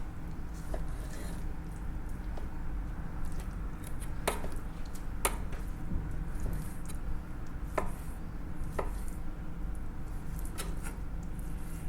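A knife slices through cooked lobster meat on a board, giving quiet crisp taps and cuts scattered over a low background hum, with no one talking.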